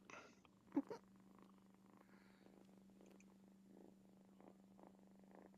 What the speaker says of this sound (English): at first I wasn't sure what that was, and I'm like, oh, it's purring